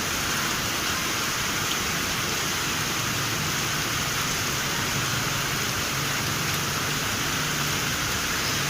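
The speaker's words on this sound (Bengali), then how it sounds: "অনেক সুন্দর বৃষ্টি হচ্ছে।" Heavy rain drums on a tin garage roof in a dense, even roar that holds steady and close throughout, with no voices over it.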